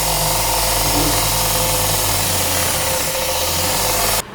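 A loud power sander grinds continuously against carbon-fiber-reinforced motorcycle trousers in an abrasion test, a harsh buzzing roar that cuts off abruptly near the end.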